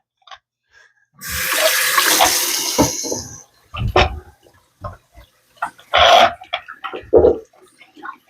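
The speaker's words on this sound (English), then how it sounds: "let me wash my hands real quick" A running tap splashes steadily as hands are washed under it, a continuous rush of water lasting a couple of seconds, followed by scattered short sounds, brief voices and bumps.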